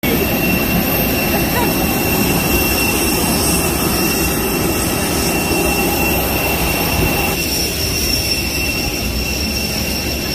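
Jet aircraft engines at an airport while passengers wait to board a flight to Palawan, a loud continuous roar and whine that stays steady throughout with no voices.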